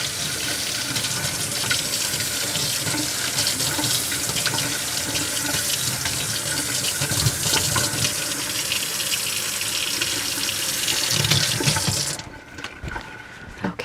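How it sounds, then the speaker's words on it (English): A craft stencil inked with Distress Oxide inks rinsed under a running tap at a sink, a loud, steady rush and splash of water that cuts off abruptly near the end, no voices. "I'm gonna clean off this stencil. Just running it underwater will do it."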